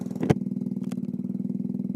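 A custom Kawasaki Z125 motorcycle idling close by, its exhaust giving a steady rapid putter with a brief blip near the start.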